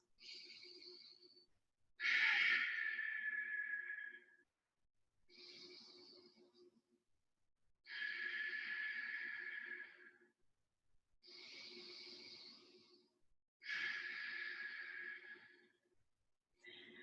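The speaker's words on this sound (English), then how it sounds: "We're here in bridge pose for 3 deep breaths." Slow, deep breaths taken while holding a yoga bridge pose during a gentle flow: six long, airy inhales and exhales of about two seconds each, separated by short pauses, close and fairly soft with no talking.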